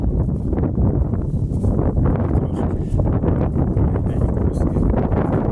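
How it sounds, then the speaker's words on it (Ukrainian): Strong wind buffets the microphone with a constant loud, low rumble that barely lets up. "і дуже сильний вітер у нас."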